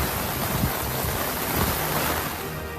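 Floodwater rushing through streets after heavy monsoon rain, a dense continuous roar of moving water with no breaks, steady and fairly loud.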